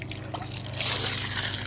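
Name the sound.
water poured into a bisque-fired pot and tipped out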